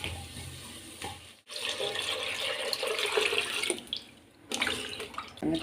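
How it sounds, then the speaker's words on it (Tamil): Water pours steadily into a pot of sambar being cooked, a continuous splashing, running-water sound with a brief break partway through, close and fairly loud with no talk. "கொஞ்சம் தண்ணி சேர்த்துக்கலாம்."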